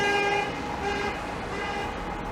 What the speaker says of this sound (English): And that modern Niagara van nearly swerved into a vehicle next to it. Hence the honking.